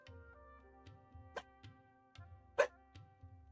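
Several short, soft dog barks and yips spaced irregularly over a quiet background, fairly distant and muffled, from a dog in the video game Genshin Impact.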